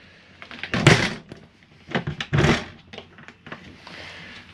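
The entry door of a Jayflight SLX 174BH travel trailer is handled, giving two solid thunks with rattling latch sounds and softer clicks between them, heard close with no talk.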